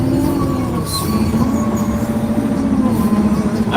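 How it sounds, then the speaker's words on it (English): A garbage truck passing close by, a loud sustained rumble with whining, squealing mechanical tones rising over the engine noise and no talking. "That wasn't me, that was the garbage truck."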